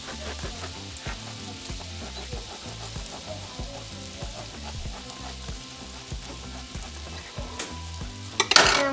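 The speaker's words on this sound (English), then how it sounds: "I'm going to set it on medium-high heat. And I'm going to add 1 tablespoon of butter." One tablespoon of butter sizzles steadily in a frying pan on medium-high heat, making a continuous crackling hiss with soft scraping or stirring underneath and a sharper burst of spatter near the end.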